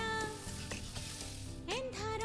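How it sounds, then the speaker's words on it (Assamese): Cut potatoes fry with masala in a pan for an Assamese-style mutton curry, giving a steady, close sizzle that crackles briefly as the food is stirred. "কাটি ৰখা আলুখিনি দি দিলোঁ আৰু আলুখিনিৰ লগত অকণমান সময় আকৌ ইয়াক আমি ফ্ৰাই কৰিব"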